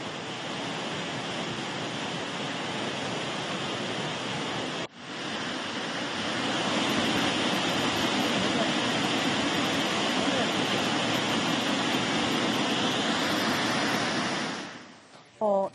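A waterfall swollen by heavy monsoon rain at Charmadi Ghat in Karnataka roars with a loud, dense, steady rush that briefly dips around five seconds, then fades out near the end.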